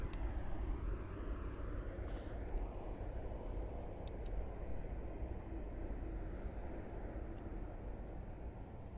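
A United Airlines Boeing 737-900 arriving at Miami International Airport gives a steady, broad jet roar that holds for the whole stretch at a moderate distance, with no talk over it.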